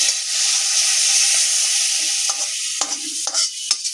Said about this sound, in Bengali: এখন দিয়ে দিচ্ছি কোরানো নারকেলটা দিয়ে সমস্ত মশলার সাথে ভালো মতো করে কষে নেব